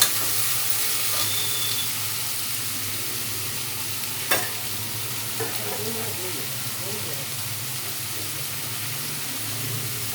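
Vegetables and moong dal lightly frying and being stirred in a pan for pasi paruppu sambar, a soft, constant sizzle with a faint clink or two of the spoon, steady throughout.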